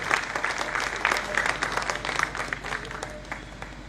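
A crowd at a political election rally in Gujarat gives loud, sustained applause, dense clapping that stays close and fades slightly toward the end.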